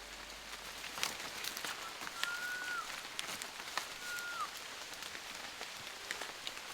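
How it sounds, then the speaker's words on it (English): Steady patter of rain in the Amazon rainforest, a dense hiss of drops on leaves with scattered sharper taps, soft and continuous, while a bird calls twice with a thin rising-falling whistle. "But soon the sky darkened and it started to rain."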